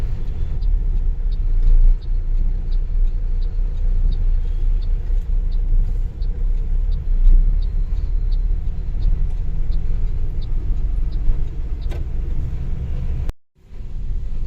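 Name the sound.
buses and traffic in a town in the rain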